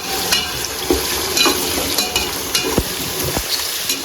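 Ginger garlic paste for egg biryani being stirred and fried in a pan, with a steady sizzle and repeated scraping clacks of the spoon at an uneven rhythm, close and clear.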